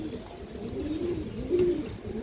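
Domestic pigeons, including fancy breeds, coo close by in a loft with repeated low, throaty, rolling calls that rise and fall several times, and no voice over them.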